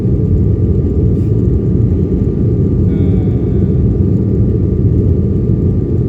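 Steady, loud low-frequency roar fills an airplane cabin during flight, a constant engine drone that never lets up, with no speech over it.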